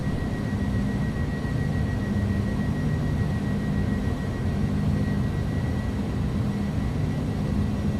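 Engines of an iniBuilds A300 BelugaST at takeoff power in X-Plane 11, a loud steady broadband roar with a constant whine on top, continuous and unchanging throughout.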